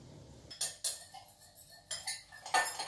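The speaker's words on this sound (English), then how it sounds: "take a piece of steak and cut it into very thin strips" A knife cuts steak into very thin strips for a beef stir fry, producing a handful of close, sharp clinks and taps against the board or plate in an otherwise quiet kitchen.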